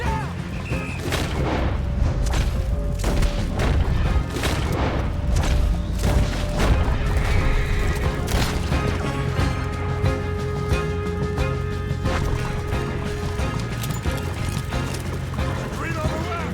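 Red Dead Redemption 2 gunfight: repeated sharp gunshots and booming blasts crack at irregular intervals over a steady din of hoofbeats and scuffling, with in-game voices shouting between the shots.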